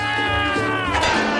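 A kitten gives one drawn-out, rising and falling meow, close and clear, over a low background hum.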